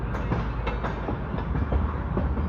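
The Hoshiarpur Express arriving at a station alongside another train in parallel: a steady rumbling roar with rhythmic clickety-clack of wheels over rail joints, close and fairly loud, with no talk.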